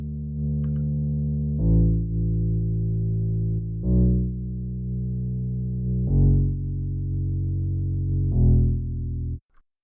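A synthetic electronic bass in a soundtrack holds long, steady low notes, shifting pitch every couple of seconds with a soft swell at each change, alone and sustained until it cuts off.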